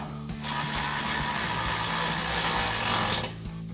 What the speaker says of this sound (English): We'll grab our ratchet 13mm socket, tighten down our bottom bolt.